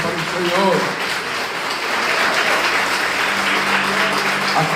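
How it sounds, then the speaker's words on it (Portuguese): A church congregation claps loudly and continuously, a dense close wash of applause that carries through the whole moment, with voices mixed in underneath. "dê um aplauso com violência para o Senhor"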